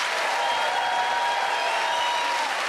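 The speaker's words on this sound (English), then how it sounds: "Give a round of applause to Ed, Kerry and Nish." Studio audience applause on a British comedy panel show, a thick, even roar of many clapping hands filling the room, loud and unbroken from start to finish.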